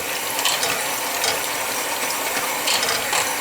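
Hand mixer whirring through thickening béchamel sauce of milk and flour, a continuous close mechanical buzz with slight rhythmic surges as milk is added bit by bit.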